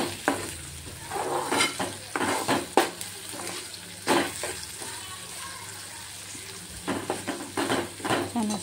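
Coriander leaves frying in oil in a pan for Maharashtrian zunka, a steady close sizzle broken by repeated scraping stirs of a spatula against the metal, with no voices.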